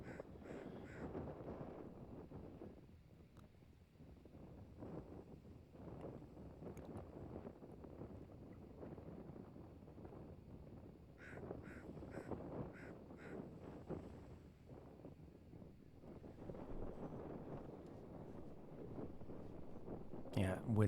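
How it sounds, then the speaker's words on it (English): Strong gusty wind at Teatotaler Beach, buffeting the microphone in fluctuating waves, with occasional crow-like caws in the background. "The wind was pretty strong."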